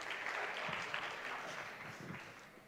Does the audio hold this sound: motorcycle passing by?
no